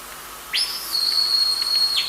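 A shepherd's single sharp, high-pitched whistle to a sheepdog rises, holds steady for over a second, then drops away, clear and outdoors at a sheepdog trial with no talk.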